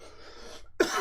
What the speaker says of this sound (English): I've been coughing like this since yesterday.